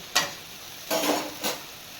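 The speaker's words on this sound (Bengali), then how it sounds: "হ্যাঁ আলুটা ভাজতে দিয়ে দিলাম" Potatoes fry in a pan, a soft close sizzle broken by three short scraping stirs, no voices.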